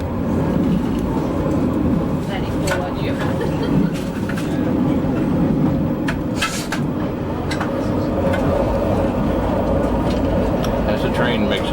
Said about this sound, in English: As the train makes its way around the mountainside.